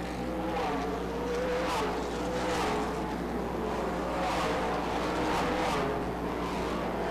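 Race cars lap Rockford Speedway with a continuous buzzing engine drone, rising and falling in waves as cars pass, steady and moderately distant throughout.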